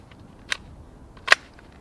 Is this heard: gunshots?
yes